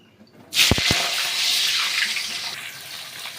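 Washed potatoes dropped into heated oil in a kadai set off a sudden loud, broad hiss with a couple of quick thumps, then a steady sizzle that holds on alone without voices.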